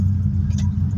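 Low, steady engine rumble heard from inside a truck stuck in a bumper-to-bumper traffic jam, filling the whole short moment with a faint clink near the middle.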